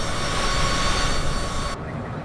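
An airplane engine drones in a steady, loud hum while cruising in Microsoft Flight Simulator, then cuts off abruptly near the end.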